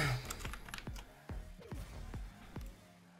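Keys clack on a computer keyboard with a faulty D key during an online gaming session, as a run of about eight sharp, close presses at an uneven rhythm.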